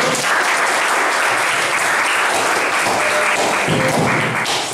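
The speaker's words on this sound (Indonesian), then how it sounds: "boleh tepuk tangan untuk kelompok 1" Classmates in a teacher-training hadith lesson applaud group 1 after its presentation, a dense, loud and even burst of clapping that fills the whole stretch with no talk over it.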